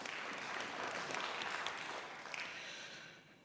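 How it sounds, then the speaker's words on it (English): Audience applauding panelists at a livestock biotechnology conference, a continuous broad patter of clapping that holds steady before gradually tapering off toward the end. "Join me, let's give them an applause."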